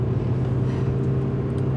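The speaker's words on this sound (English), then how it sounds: "I can hear a car engine." A hotwired car's engine idles steadily, a low even rumble with a constant hum and no revving, moderately close and alone.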